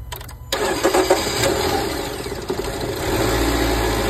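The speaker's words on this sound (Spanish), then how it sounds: "Ahora ya arrancó el carro" A car engine cranks and catches after a starter motor repair, settling into a steady running rumble close by, with a few clicks and knocks at the start.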